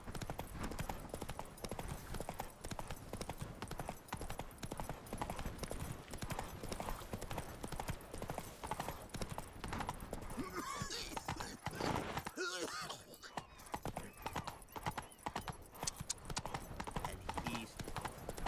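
Roach, Geralt's horse in The Witcher 3: Wild Hunt Blood and Wine on PS5, gallops with steady rapid clip-clop hoofbeats, loud and continuous alongside game ambience, with a brief whinny-like burst midway.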